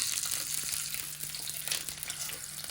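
Cashews and curry leaves fry in ghee with a steady, close sizzle and a faint crackle. It carries on for a few seconds with no voice over it.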